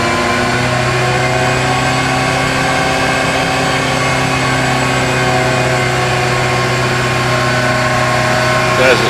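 A loud, steady engine drone under heavy load on a dyno, an Arden 8-port engine, holding a constant pitch with rich harmonics and no break.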